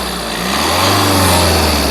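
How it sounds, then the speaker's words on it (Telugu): A 2018 Tata Nexon XZA Plus AMT engine idles steadily nearby, a smooth low hum with a faint high whine, no talking. "ఇంజన్ యొక్క నాయిస్ కూడా చాలా సైలెంట్గా ఉంది"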